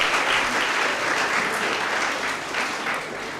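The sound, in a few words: applause for a school quiz team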